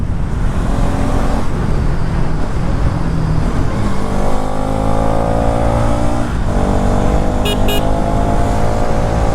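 A motorcycle is ridden along a road with a loud, steady engine drone whose pitch rises and falls through gear changes, all mixed with wind and road noise.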